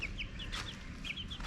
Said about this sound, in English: I'll give you an update on the meat birds here